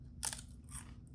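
Homemade potato chips served alongside Reuben sandwiches crunch in two quick, close bursts of crisp crackling, with a low steady hum underneath and no talking.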